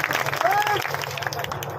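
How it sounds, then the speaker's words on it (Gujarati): A crowd claps hands at a religious gathering for the goddess Meldi Maa, with dense, steady clapping running through the short moment and voices mixed in. "તાળી પડો"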